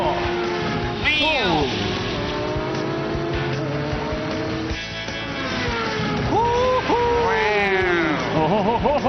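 A cartoon race car revs and accelerates hard with whining engine sweeps and squealing passes, loud and continuous beneath an excited commentator's speech.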